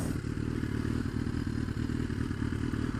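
A motorcycle riding off-road on a ride to a dairy farm, with a steady, loud engine drone and continuous rattling and clatter from the rough terrain. No voices are heard.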